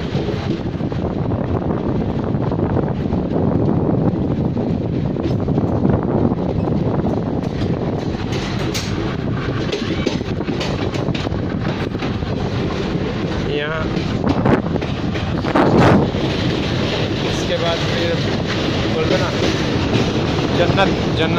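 Steady roar of a moving passenger train near Pathankot, heavy wind buffeting the microphone over continuous rumbling wheels and rattling carriages, loud and unbroken throughout.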